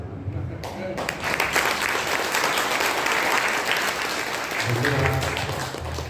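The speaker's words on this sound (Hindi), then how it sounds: "इतनी बढ़िया ताली बजनी चाहिए कि गायक में भी जोश आ जाए।" Audience at an Arya Samaj gathering breaks into sustained clapping for a singer, a dense wash of applause rising after the first second and continuing, with voices audible underneath.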